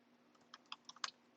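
Several crisp keystrokes on a computer keyboard, entering a bash command, tapped in an irregular burst of about six clicks, close and quiet against a low steady hum.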